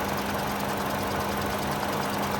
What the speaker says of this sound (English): Runs nice and smooth. It's got the